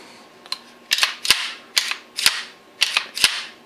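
Test firing of a rebuilt 1911 pistol on a range with a new mainspring: about seven sharp, close gunshots, some in quick pairs, with silent gaps between them and no talk.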